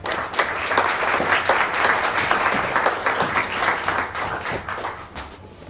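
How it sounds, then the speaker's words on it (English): A large audience gives a loud, sustained round of applause as two performers are invited onto a stage, a thick wash of many hands clapping that tapers off near the end. "Everyone give them a round of applause."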